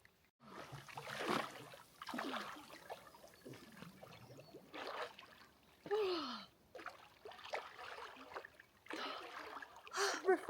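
A person wades into a Finnish lake, with several bursts of splashing and trickling water separated by pauses, close by, along with gasping breaths and a few vocal sounds.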